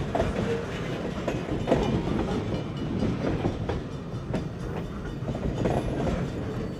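A southbound Vermont Railway train rolls past Bartonsville Covered Bridge with a steady rumble and rhythmic clickety-clack of wheels on rail joints, close and continuous.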